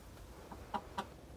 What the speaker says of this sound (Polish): To są dwie kury z rasy włoska lawendowa.